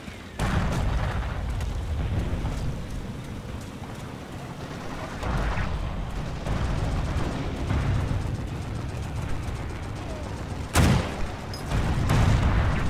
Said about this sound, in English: now to call in artillery on their asses